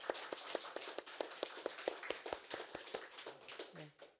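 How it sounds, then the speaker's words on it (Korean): Rhythmic clapping from a church congregation welcoming guests at a Sunday morning service, steady sharp claps filling the room, with a brief voice near the end. "우리 박수로 환영하겠습니다."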